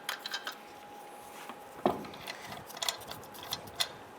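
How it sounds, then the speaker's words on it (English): Soft metallic clicks and light scrapes of lug nuts being started by hand onto the threaded studs of a 1995-2001 Ford Explorer rear wheel, faint, close and sparse. "Get our lug nuts put on. I'm going to start these all by hand,"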